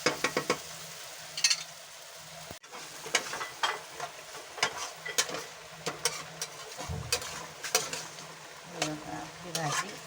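A dry rajma kidney-bean curry being stirred and fried in a pan, with repeated spoon scrapes and knocks over a soft sizzle, close and irregular.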